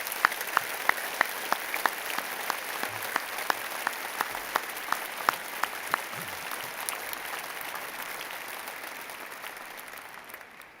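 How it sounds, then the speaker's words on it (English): Steady applause from a large graduation ceremony audience honouring Liverpool John Moores University graduands, heard at a moderate distance as a dense, even patter with a few sharper individual claps, fading slightly toward the end. "may we please start by applauding our graduands"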